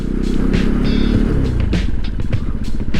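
A Benelli 135cc motorcycle rides along, its engine a loud, continuous close-up drone mixed with rattling road and wind noise.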